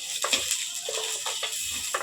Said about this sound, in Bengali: সিমই আর কাজটা একসঙ্গে ভেজে নেব